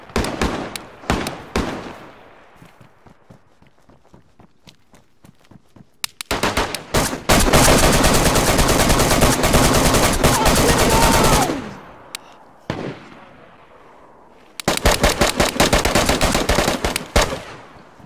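Gunfire in the DayZ video game around Chernogorsk: scattered single shots, then long sustained bursts of rapid automatic fire, loud and close, with brief pauses and another heavy burst near the end.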